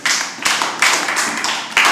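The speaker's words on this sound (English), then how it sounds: "clap your hands." Children clapping their hands during a kids' camp session, several quick bursts of claps in a row, loud and close, with no talking over them.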